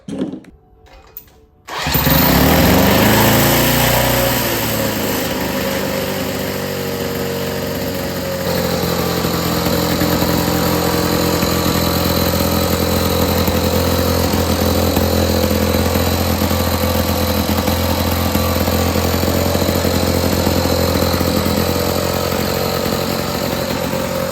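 A Lawn Boy 3050 lawn mower engine with a newly replaced ignition coil is pulled over and catches. After a couple of seconds of starting noise, a loud, steady two-stroke roar runs continuously up close, with a slight change in pitch partway through.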